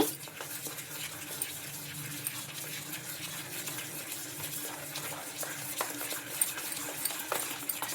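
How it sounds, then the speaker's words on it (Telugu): A spoon stirs semolina batter in a bowl, giving a steady run of soft wet scraping with light clinks against the side, close by and fairly quiet, with no talking. "ఇంక ఇవన్నీ వేసుకొని ఒకసారి స్పూన్ తోటి బాగా కలుపుకుందాం."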